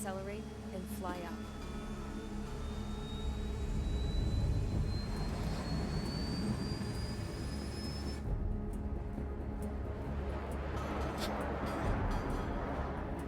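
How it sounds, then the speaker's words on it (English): A jet aircraft in the video game Ace Combat 7 takes off, accelerates and climbs, with a steady engine roar and a rising whine. A voice speaks over it. "All this plane could do was take off, accelerate, and fly up."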